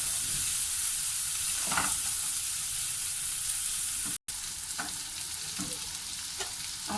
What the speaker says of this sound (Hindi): अब इसके अंदर शिमला मिर्च डाल देंगे, एक मिनट के लिए हम इसको हल्का सा फ्राई कर लेंगे